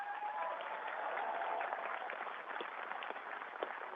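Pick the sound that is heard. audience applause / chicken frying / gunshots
audience applause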